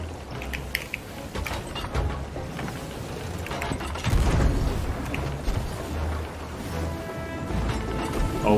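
Cannons boom repeatedly in a pirate video game, heavy low thuds landing amid busy clattering effects, with the biggest blast roughly midway through.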